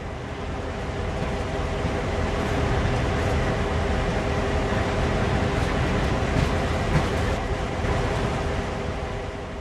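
A CSX freight train coasts along steadily in the game Train Sim World, with a low rumbling drone and faint rhythmic rail clatter, constant and moderately loud throughout.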